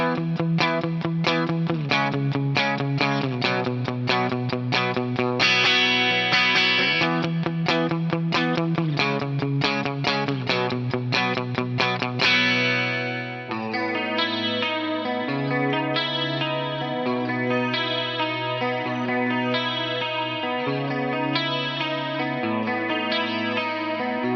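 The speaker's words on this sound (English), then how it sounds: "We'll just hear the Dimension chorus" Clean electric guitar drenched in a Dimension chorus stacked with a rich second chorus, shimmering and wide, strumming steady chords and then shifting to a slower, sustained picked passage.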